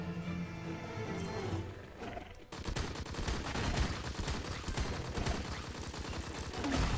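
Gunfire in the video game Monsters and Monocles, bursting in after a quieter stretch as rapid, dense shots that keep rattling out loud for several seconds.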